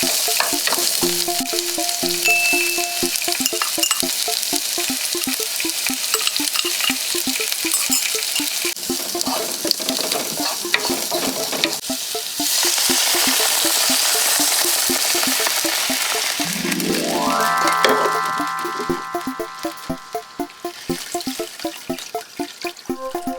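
Onion slices sizzle and fry in hot oil in a pan, a continuous crackling sizzle with occasional stirring, then water pours in near the end and the frying noise quiets to scattered bubbling.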